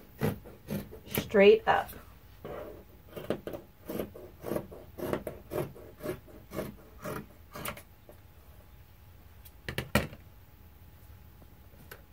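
Scissors snipping through T-shirt sleeve fabric near the seam, a close run of regular crisp cuts with brief rustles of cloth between them; a voice speaks briefly.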